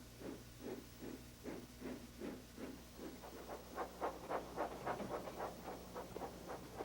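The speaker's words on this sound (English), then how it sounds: "Edward is chuffing cheerfully through the countryside" Edward, a cartoon steam engine, chuffs through the countryside in soft, rhythmic puffs of steam that start spaced apart and quicken into a faster, steady beat. The puffs are quiet, with a faint hiss between them.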